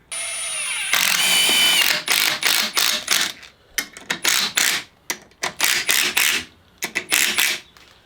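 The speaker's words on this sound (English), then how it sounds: "He's just gonna jigsaw this guy out" Jigsaw cutting through old wood on a Nissan D21 pickup job, loud buzzing rasp in short bursts that stop and restart, close by with no talk.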